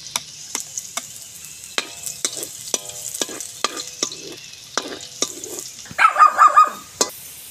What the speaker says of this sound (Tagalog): Ngayon po, gigisa naman po tayo. Unahin natin yung bawang.